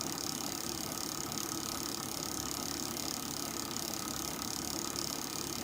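An ultra low RPM generator turning at about 138–139 RPM runs steadily, giving a continuous low mechanical hum and faint rattle at constant level with no talk.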